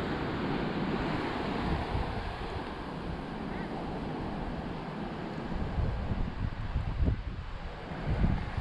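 Strong, high sea waves surge and rumble continuously during a rainy season, with heavy wind buffeting the microphone throughout and no clear voices.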